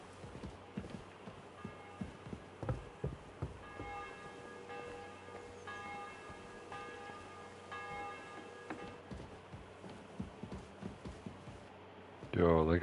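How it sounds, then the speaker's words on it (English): A church bell tolls before an execution in the video game Kingdom Come Deliverance 2, ringing several resonant strokes in the middle of the clip over clattering hoof-like or footstep knocks and a busy ambient background. "The 11th toll of the bell. The last before the execution starts."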